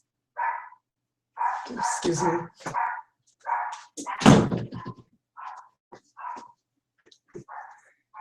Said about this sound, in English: I'm so sorry, my dog.